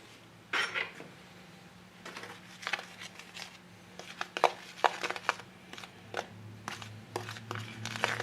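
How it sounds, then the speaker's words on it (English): CC Moore pop-up carp bait mix is stirred in a bowl, giving quiet, irregular scrapes, rustles and light clinks that come in bursts over a faint low hum. "Just thoroughly mix this, just so all our additives are mixed throughout the blend here"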